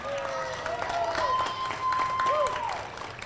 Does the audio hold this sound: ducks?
no